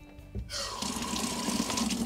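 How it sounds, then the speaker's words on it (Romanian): Water runs steadily from a tap into a bucket inside a cow barn, a continuous near splashing rush starting after a brief click and lasting to the end, with no talk. "Avem aici robinetul ăsta."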